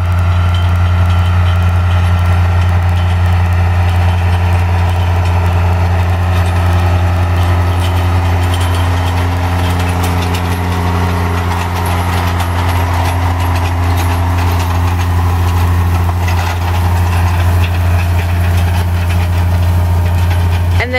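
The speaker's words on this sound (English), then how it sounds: "now they're coming along with what we call the rake, and it just rolls the windrows over" Tractor pulling a hay rake that rolls windrows over during hay harvest on a farm, a loud continuous low engine drone with steady mechanical clatter throughout, no talk.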